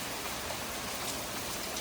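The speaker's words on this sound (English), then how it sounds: "A rain delay. Always with the rain." Rain falls steadily in Ottawa beside a camper build, an even wash of dense patter with no breaks or voices across the short stretch.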